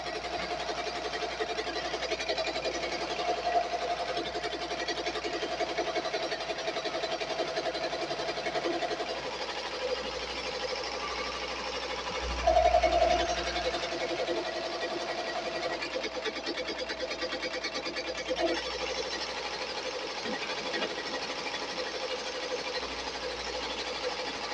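A Bai Mirror 1501 embroidery machine stitching a hoodie with red thread: a fast, steady mechanical whir and rattle that runs continuously at moderate volume, with a brief heavier thump partway through and no voices.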